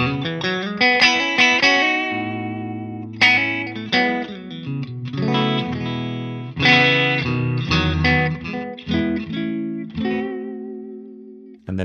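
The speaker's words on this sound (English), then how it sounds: "This is the middle." Ariel Posens' Fender signature electric guitar switched to the middle pickup, clean with slight slapback, playing a flowing phrase of chords, bent notes and low bass runs, loud and close with no speech.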